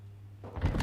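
Brief weapon magazine change in Call of Duty Modern Warfare II, a short mechanical click and slide clatter heard close up over a low steady hum, lasting under a second.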